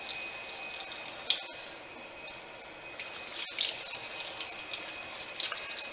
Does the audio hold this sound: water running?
yes